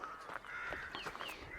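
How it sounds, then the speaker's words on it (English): A blackbird sings in a paddock in May, its clear whistled phrases rising and falling over faint background bird calls, moderately distant and continuous without any voices. "There's the blackbird singing at the top of the paddock."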